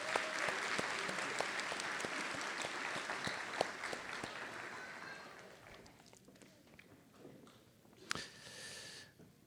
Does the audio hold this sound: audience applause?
yes